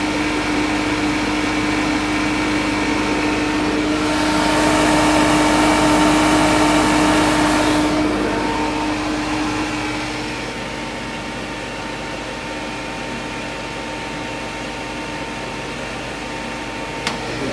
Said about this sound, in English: get your recovery machine, get your scale, zero out, and let's weigh what we pull out of that machine